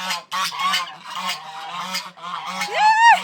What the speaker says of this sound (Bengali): বড় হয়ে গেছে কত রাজহাঁস গুলো।